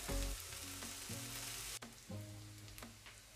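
Onion and green pepper gently sizzling in oil in a pan as the base for homemade Pardina lentils, a steady close frying hiss with soft clinks of stirring and no talk.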